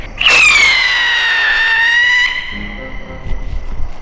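A busca-pé firework shrieks into a loud, steady whistling scream with a gently falling then level pitch for about two seconds, cutting off into crackling outdoor noise at night.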